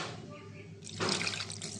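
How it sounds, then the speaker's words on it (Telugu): Water splashes steadily into a cooking pot holding country chicken meat and ginger-garlic paste, set for a pressure cooker; the pour starts partway in after a quieter lead-in and runs loud and close to the end. "కొంచెం వాటర్ వేద్దామండి"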